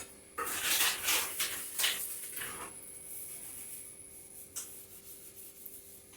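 Banana-type leaves picked up and folded together for a vegetarian paturi, a cluster of dry rustling crinkles early on, then quiet and a single later rustle, close by.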